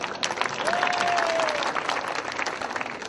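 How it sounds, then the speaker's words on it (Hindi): Audience applause at a business presentation, a steady dense wash of clapping that holds for the whole stretch, with a faint tone briefly rising over it. "तालियां बजाइए अब दोबारा"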